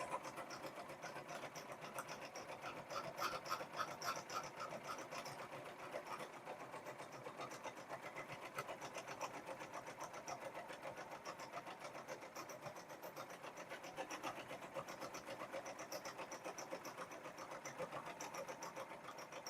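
An embroidery machine sews a satin stitch in a rapid, steady mechanical chatter that runs without a break for about twenty seconds at moderate, even loudness.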